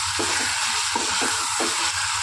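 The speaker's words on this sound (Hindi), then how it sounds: "देखिए इसमें मेथी ऐड करेंगे अपन, मेथी हो अच्छे से भून लेंगे," Fenugreek (methi) fries in a pan for a Hyderabadi lunch dish, with a steady loud sizzle and a few soft scraping stirs of a spoon, close up and without talk.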